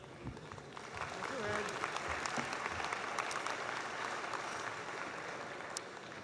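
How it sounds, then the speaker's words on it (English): Applause from a 2022 graduate school commencement audience greets an academic dean stepping to the podium, a soft, steady wash of many hands clapping heard from a distance throughout. "It's always nice to get a round of applause even before I start speaking"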